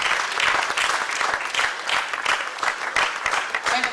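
An audience at a leadership certificate event keeps up its applause for the lecturer: thick, continuous clapping from many people, close and even, with no talking over it.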